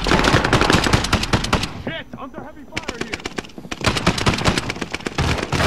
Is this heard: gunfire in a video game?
yes